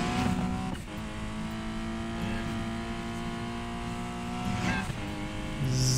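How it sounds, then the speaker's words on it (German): Steady hum of a car engine idling and revving in Need for Speed Payback, a constant tonal drone with brief swells and small pitch shifts, close and continuous throughout with no speech. "Das ist ja mein Motor, der läuft ja."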